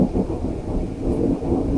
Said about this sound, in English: You can probably hear the thunder.